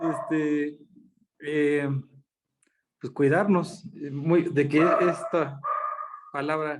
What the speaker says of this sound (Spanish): perdón por mis perros, pero tengo un chorro de perros.